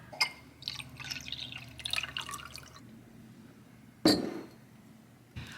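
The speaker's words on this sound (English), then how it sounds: "I'm gonna go refill my water" Water poured into a drinking glass, a run of bright trickling and dripping splashes for a few seconds, then a distinct clink of glass, close and fairly quiet.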